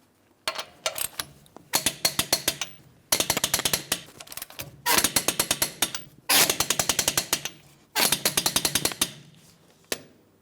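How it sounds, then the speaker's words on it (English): Lug nuts on a Ford Transit 250 wheel being driven with an impact wrench, heard as six rapid rattling bursts of hammering clicks with brief pauses between them, close and fairly loud. "Let's go ahead and torque these lug nuts to that 148 foot-pounds in a crisscross manner."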